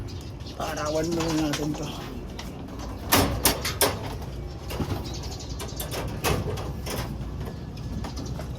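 Pigeons at a loft on a Sunday morning coo softly amid bursts of wing flapping and clattering, with someone speaking over them.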